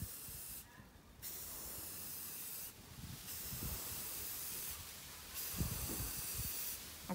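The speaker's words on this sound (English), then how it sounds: "But now they are ready to be sprayed." Spray paint hisses from an aerosol can onto faux floating shelves outdoors on a windy day, in several separate bursts with steady wind noise between them.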